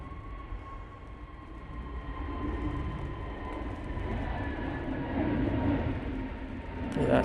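easyJet airliner in new orange livery on its takeoff roll at Manchester Airport, a steady distant engine roar that slowly swells louder with a rising whine.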